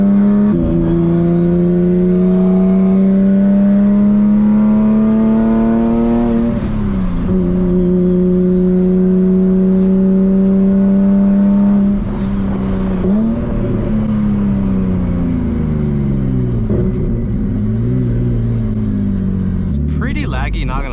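A Nissan Z with a new turbo setup, still without its downpipe and exhaust, revs and accelerates on its first drive: a loud, close engine note climbs in pitch through several pulls and gear changes, dipping and rising again.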